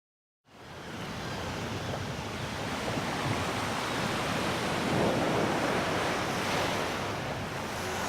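Ocean surf washes steadily against the Tarragona coast, a broad continuous roar of breaking waves after a brief silent start, with some wind.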